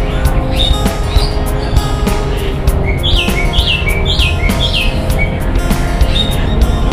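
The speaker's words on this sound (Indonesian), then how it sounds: "Ada jalak suran, teman-teman." Asian pied starling at Surabaya Zoo giving a series of bright, whistled chirping calls, repeated clearly over a steady background murmur of zoo ambience.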